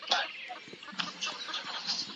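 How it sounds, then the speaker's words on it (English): Chicken clucking close by, a quick run of short broken clucks and squawks in uneven rhythm over about two seconds, with faint background voices. "that stupid chicken"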